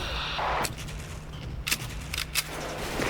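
Rapid bursts of ICE AK74 rifle fire in the online shooter Sudden Attack, several short volleys and single sharp cracks at close range over a steady low game hum, with no voices.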